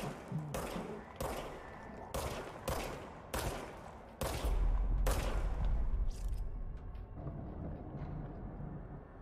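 Energy gun in the video game Control fires a series of about seven heavy, booming shots in uneven rhythm, each punchy and loud with a rumbling tail, followed by lingering low ambience.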